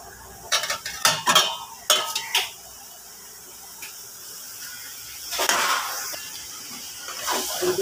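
Pieces of fish dropped into a pan of frying spice paste, bringing several sharp clattering knocks of utensil against pan followed by a soft, steady sizzle and stirring scrape.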